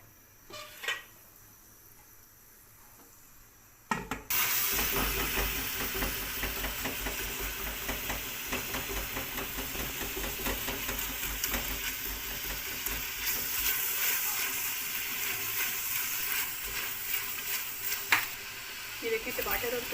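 Onions and tomatoes cooking with a little water in a pan for dhaba-style daal mash, a quiet start broken by a sudden onset of continuous sizzling and bubbling, with some scraping and a voice speaking.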